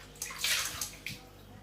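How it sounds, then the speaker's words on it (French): Hot tap water runs and splashes while dishes and a cooking pot are rinsed, giving a few uneven bursts of spattering water close by, with no talk. "Ensuite, on rince. C'est très facile. Et il faut mettre de l'eau chaude pour enlever l'huile."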